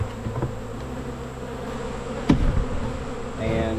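Honey bees buzz steadily around an open hive during a late July inspection, a constant close drone with a brief clunk of handling partway through and a louder burst of buzzing near the end. No one speaks.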